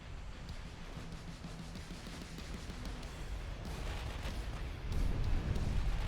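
Battleship-caliber guns firing in a naval warfare game, a continuous dense rumble of distant cannon fire and booms that swells louder toward the end, with no speech over it.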